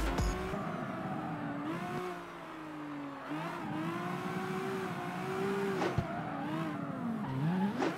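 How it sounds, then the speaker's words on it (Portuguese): A sports car engine in the racing video game CarX Street roars and revs steadily, its pitch rising and falling with gear changes, with a brief tire squeal near the end. "vamos dar uma escutada aqui no barulho do ronco dessa nave"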